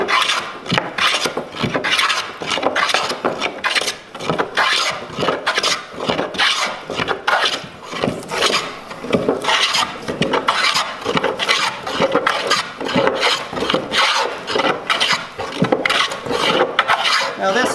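A hand plane flattens a wooden board with repeated rasping strokes, each a rough, close scrape followed by a short pause, in a steady working rhythm.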